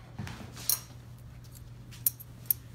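Scissors being handled in a car restoration workshop, heard as three brief metallic clicks and clinks spread across a quiet background with a low steady hum.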